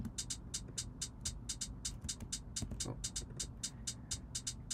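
Programmed hi-hat pattern in Logic Pro mimics a rolling suitcase, crisp ticks alternating long and short in a steady rapid rhythm over a faint low hum.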